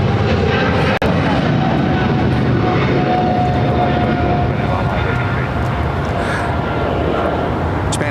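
A Japan Airlines heavy jet takes off at LAX, a loud, continuous broadband engine roar that holds steady throughout, with a brief sharp click near the start.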